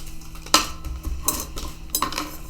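A spatula cutting a house shape out of a clay slab, giving a few short scraping and tapping strokes, close and fairly loud, separated by quiet pauses.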